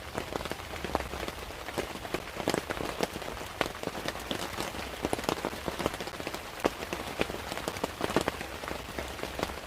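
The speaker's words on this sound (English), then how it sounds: "But isn't that a common, relaxing sound? Not my voice. The rain." Steady rain falls on a hard surface, a dense continuous patter of close, crisp drops with scattered louder splats, even in level and with no voices.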